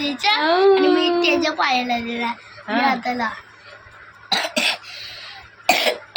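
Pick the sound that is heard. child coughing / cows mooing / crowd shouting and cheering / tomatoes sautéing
child coughing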